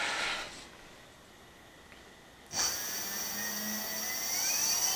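An electric bike motor spinning up after a new throttle is fitted, a high whirring whine that kicks in abruptly halfway and holds steady, rising slightly toward the end with no talking.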